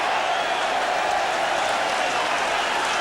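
Football crowd in a stadium stand at a Luton Town match, a steady, dense roar of cheering and applause that holds at the same level throughout, close and broad with no break.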